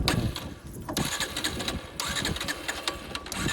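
A close, rough Bajaj Pulsar motorcycle engine drones steadily throughout with a knocking, uneven rhythm, loud and continuous near the microphone.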